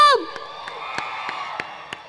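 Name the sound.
audience clapping and cheering for Harsha sir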